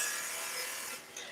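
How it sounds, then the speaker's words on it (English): A bowl gouge held like a skew makes a smooth cut on wood spinning on a lathe, a steady close hissing shave that eases off briefly near the end. "I'm just going to do a nice cut with the bowl gouge"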